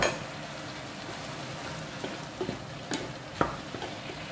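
Bean sprouts with blood and spring onion being stir-fried in a pan, a steady soft sizzle with a few sharp clinks and scrapes of the spatula toward the end.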